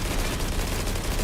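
Sustained automatic gunfire in Stalcraft, a post-apocalyptic online shooter, loud and continuous rapid shots with no pauses over a brief stretch.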